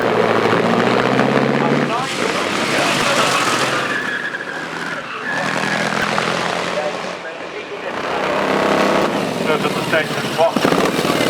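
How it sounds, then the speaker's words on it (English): A 9-litre aero-engine Piccard-Pictet race car pulls away at the start of a hillclimb, its loud rumbling engine swelling and easing in waves while a voice talks over it. "Davy Baker's 9-litre aero-engine Picard Pictet is first away."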